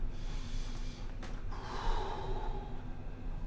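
An old Rottweiler named Ruby breathing during a chiropractic session, a quiet close snort and a gasping breath standing out against faint room noise.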